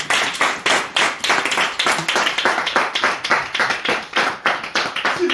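Rhythmic, steady clapping from a congregation at a French-language Christian praise and worship service, many hands beating a fast even pulse that fills the room.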